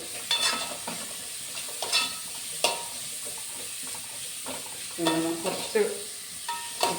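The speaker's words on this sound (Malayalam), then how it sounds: "ഇത് നന്നായിട്ടൊന്ന് വഴറ്റി കൊടുക്കുക" Ingredients for chicken fried rice are sautéed in a pan with salt, a soft sizzle under repeated scraping stirs of a spatula, close and fairly quiet, with sharper knocks at intervals.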